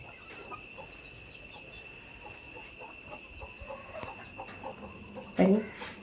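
Hens cluck in a rainy-day yard near a forest, soft scattered clucks over a steady hum of insects, with one louder close squawk near the end.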